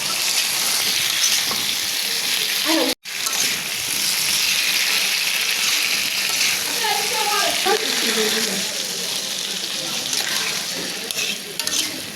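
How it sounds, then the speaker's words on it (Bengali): Potato goes into a pan of sautéed spices, chili and bay leaf, setting off a loud, continuous sizzle with stirring scrapes throughout and a voice murmuring underneath partway through. "মশলাটা কষানো হয়ে গেছে আলু একটা দিয়ে দিলাম"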